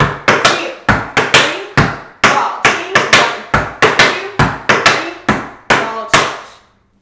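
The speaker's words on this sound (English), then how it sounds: "three flap heels and a ball change, three flap heels and a ball change" Tap dance steps in a beginner routine, flap heels and ball changes struck in a brisk, steady rhythm: about eighteen crisp, close taps with short gaps, with no voice over them.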